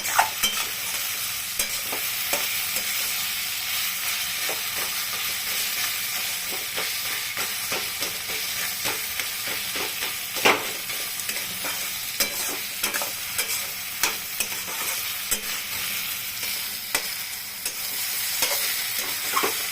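Pointed gourd curry stirred and frying in a pan, with a steady sizzle and repeated scrapes and clinks of the spatula running throughout, close and fairly loud with no talking.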